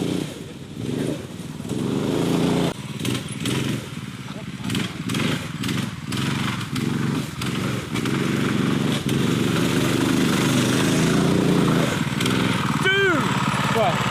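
A vintage drift go-kart engine runs loud and close throughout, a buzzy small-engine drone that surges and eases as it drives, with brief tyre squeal near the end.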